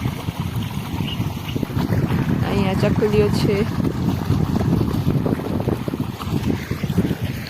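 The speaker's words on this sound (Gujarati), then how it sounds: "હવા છે ને બહુ જ વધારે છે, કદાચ મારો અવાજ સરખો આવે ન આવે. પવન બહુ જ છે." Heavy wind buffets the microphone throughout, a loud low rumble with a person speaking briefly over it.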